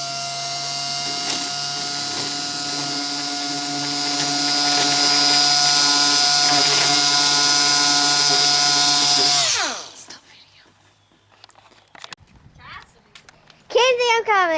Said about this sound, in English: she's about to take some DA 180 grit and just smooth the top of that back down